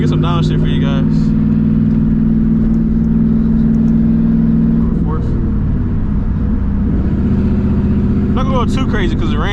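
A modified 2007 Ford Mustang GT downshifts in the rain: a loud, even engine drone holds, then its pitch drops and climbs again as the gear changes, heard close from the cabin.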